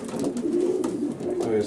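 Blue pigeons of Van de Plas lineage coo steadily in a loft, a continuous close chorus of soft, throaty, overlapping calls throughout.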